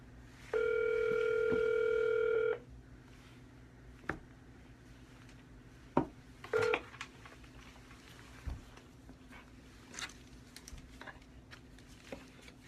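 A steady telephone dial tone rings for about two seconds, then after a pause a couple of short dialing beeps sound, with faint clicks and room noise around them during a session of cold calls.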